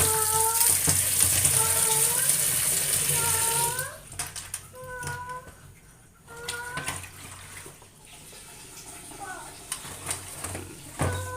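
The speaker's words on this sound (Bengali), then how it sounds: "একটু জল দিয়ে দিলাম" Water is poured from a tap into a bowl of cut potatoes, a steady rushing splash for several seconds, followed by someone speaking over quieter clinks and handling sounds.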